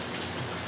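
Steady rain falls in a continuous, dense hiss, close and even throughout, with no voices over it.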